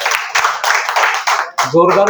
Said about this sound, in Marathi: टाळ्या वाजल्या पाहिजे, जोरदार